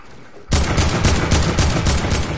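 A burst of rapid gunfire from an AR sniper rifle in a video game starts abruptly after a brief quiet, a loud, close string of sharp, evenly spaced shots with no talking.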